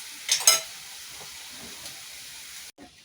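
Upperi, a Kerala vegetable stir-fry, being stirred in a pan: a couple of scraping stirs at the start over a soft, steady sizzle, close and fairly quiet, cutting out near the end.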